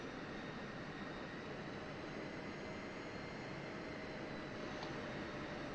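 Steady, broadband jet engine roar from an F-16 in the DCS flight simulator, a constant loud rushing whine with a faint tonal hum, sustained without a break.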